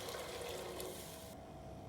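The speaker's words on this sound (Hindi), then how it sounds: "3 गिलास पानी डाल दूँगी," Water pours into a cooking pot holding frying chicken and vegetables, a steady gushing splash that runs on and then cuts off near the end, close but fairly soft.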